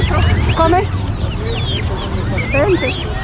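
A rooster crows and clucks several times up close amid busy market chatter and background noise, at a market in the Andes of Peru.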